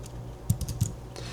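A handful of clicky keystrokes as Python code is typed on a computer keyboard, close and distinct over a steady hum, arriving in a short irregular burst.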